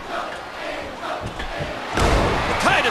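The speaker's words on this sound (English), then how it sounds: "this crowd can't get enough of it." Arena crowd noise from a WWE SmackDown vs. Raw 2010 women's tag team wrestling match in the video game, a steady roar that swells louder and busier partway through, with scattered thuds mixed in.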